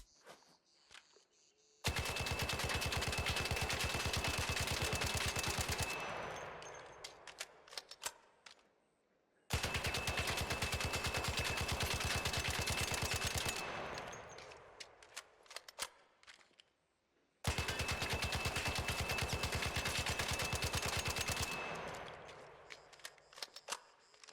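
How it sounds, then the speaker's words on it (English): A Tempest gun with vertical grip and compensator fires in ARC Raiders, in three long, rapid automatic bursts of about four seconds each. Each burst is separated by quieter gaps with clicks and handling noises. "Now let's check what results we can get with vertical grip with compensator."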